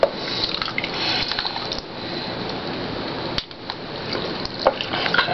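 Tap water running and splashing into a container during a denture-cleaning session at home, a continuous close hiss with small splashes and brief pauses.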